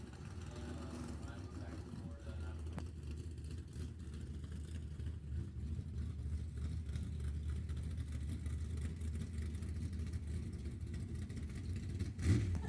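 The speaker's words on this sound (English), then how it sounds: "Hey, I hear motors." Race car engines rumble steadily at a drag raceway, a continuous low drone with a brief louder burst near the end, under faint announcer talk.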